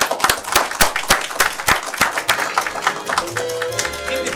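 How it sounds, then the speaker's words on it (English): Audience at a magic show claps for magician Mark Zacharia: loud, distinct, close claps in a quick, uneven rhythm that thin out after about three seconds, leaving a faint tonal sound at the end. "Keep the applause going for Danny Archer"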